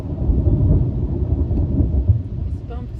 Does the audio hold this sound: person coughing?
no